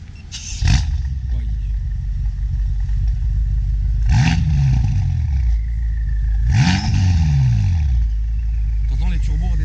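A tuned 750 hp BMW M5 F10 is revved hard three times over a steady idle, each loud blip falling away into a descending whoosh as the turbos spool down, close and powerful.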